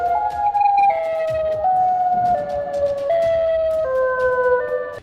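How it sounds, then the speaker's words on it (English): A loud, continuous wailing tornado siren in Chicago with several steady tones stepping down in pitch, sustained throughout and carrying over faint background rumble. "this sounds like tornado sirens from Chicago"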